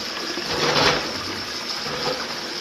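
Juice being poured through a strainer: a steady, hissing liquid pour that swells slightly near the start and then runs on evenly, close and fairly loud, with no speech.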